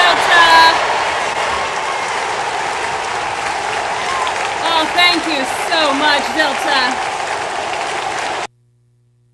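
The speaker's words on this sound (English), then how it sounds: "Everybody knows when to stop applauding at once" Audience applause at a live improv comedy show, loud and sustained, with a voice speaking over it before the clapping cuts off abruptly all at once near the end.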